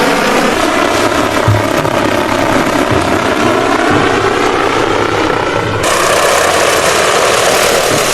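A drone hovers overhead with a loud, steady propeller drone and whine that holds constant throughout, with no voices.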